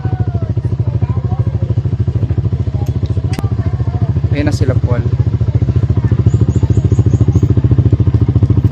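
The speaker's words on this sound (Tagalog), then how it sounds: "So sasakay na kami ng motor." A motorcycle engine runs close by with a steady, throbbing rumble, while people talk briefly over it.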